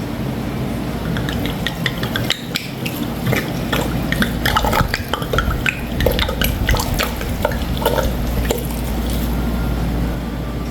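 Cherry brandy and water being poured over fruit to soak it for a Trinidad-style fruit cake, with steady liquid pouring and dripping heard alone, close and continuous.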